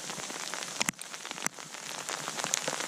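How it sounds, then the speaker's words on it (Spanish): Hail falling on Maigmó mountain, a dense crackling patter of stones striking the ground with a few sharper, louder hits standing out, heard alone with no talking. "¡Cómo mola, tío! ¡Cómo graniza,"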